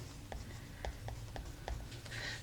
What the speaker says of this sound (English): And I'm going to write